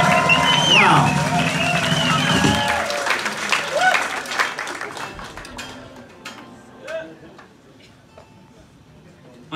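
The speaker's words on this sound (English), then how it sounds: "Yeah, give a hand for yourselves." A London club crowd at a live show claps and cheers loudly after a song, the dense applause thinning into scattered claps and whoops, with someone speaking over the fading ovation.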